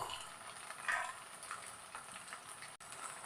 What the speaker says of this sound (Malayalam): ബാക്കി നമ്മുടെ എണ്ണയിൽ കിടന്നിട്ട് ബീഫ് നല്ല പോലെ ഒന്ന് ഫ്രൈ ആയി കിട്ടും